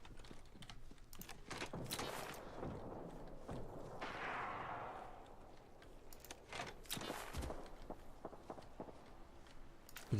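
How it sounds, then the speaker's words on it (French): Footsteps of players in the shooter game Apex Legends, a series of soft crunching steps scattered among louder thuds and impacts in a busy in-game mix. "j'entends des bruits de pas"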